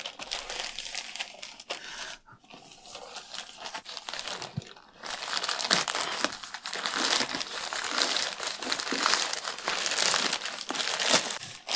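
A plastic shipping bag holding a boxed book crinkles and crackles close up during unboxing, in irregular handled bursts with a brief quieter pause, growing busier and louder toward the end.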